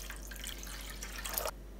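Water is poured from a measuring cup into a cooking pan holding sugar for gulab jamun syrup, giving a brief, faint splashing trickle that stops abruptly.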